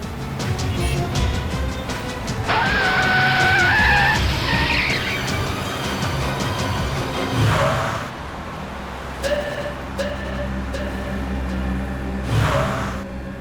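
A car skids and swerves on the road, with a squealing tire tone rising over engine rumble, followed by further shorter squeals as the vehicle swings around.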